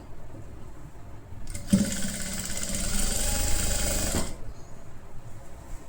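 A sewing machine stitching around the armhole of a halter neck kurti runs in one steady whirring burst of about two and a half seconds, close and fairly loud, with quiet room tone before and after.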